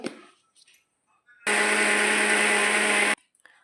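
Mixer grinder blending ingredients into a fine paste for a paneer cheese dosa batter, a loud steady whirring burst of under two seconds that cuts off abruptly, preceded by brief faint kitchen clatter.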